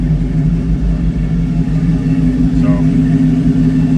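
An LS-swapped Chevy C10 pickup with a Blazer floor shifter idles steadily close by, a loud, continuous low engine rumble that stays fairly even throughout.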